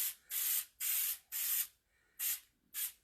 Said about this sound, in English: So I'm going to spray my stencil here.